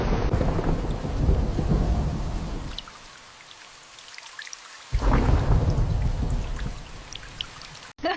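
Heavy rain pours down with rolling thunder, loud and dense at first, easing briefly to a quieter patter, then surging back strong for the rest.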